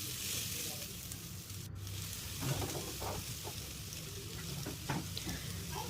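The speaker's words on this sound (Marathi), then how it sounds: "त्याच्यामध्ये आपण थोडं तेल ॲड केले आणि आपण ज्या कट केलेल्या भाज्या आहेत त्याच्यामध्ये आपण परतवून घ्यायच्या आहेत" Chopped vegetables, later joined by sweet corn, sauté in a little oil in a pan, giving a steady close sizzle broken by soft scraping stirs.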